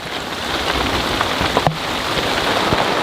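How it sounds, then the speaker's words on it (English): Heavy rain pours steadily outside a greenhouse, a dense continuous hiss of drops on the surfaces with occasional louder patters, close and unbroken throughout. "It started to rain outside. It's coming down pretty hard."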